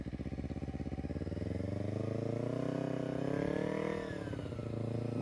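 A motorcycle rides slowly through a tight turn with the clutch feathered, its engine giving a steady close, low, throbbing drone that rises slightly midway then settles.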